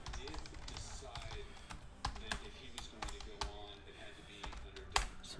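Irregular clicks of typing on a computer keyboard run steadily at close range, with a few sharper key strikes and a voice speaking faintly underneath.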